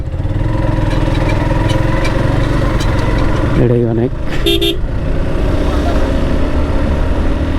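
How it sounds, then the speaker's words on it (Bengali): A motorcycle engine drones loudly and steadily as the bike accelerates on an open road, with a car horn honking briefly partway through and a rider speaking over the engine noise. "অনেকদিন পর বাইক এভাবে পিক আপ দিতেছি"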